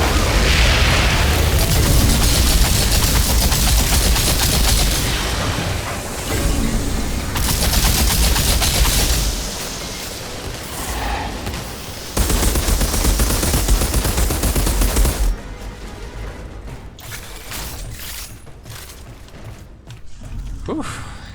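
Volcanic Rounds gunfire in the video game Outriders blasts in loud, continuous bursts of shots and booms, with a dense roar that drops off into scattered mechanical clatter toward the end.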